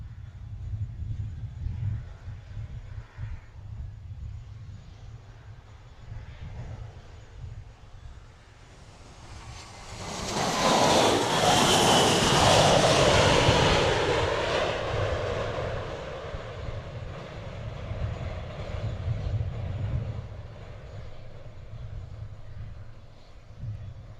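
A JetBlue airliner arriving from New York's JFK passes low over the beach at Princess Juliana Airport, Sint Maarten, its engine roar swelling loudly to a peak overhead, then easing off into a steady wind-blown rumble.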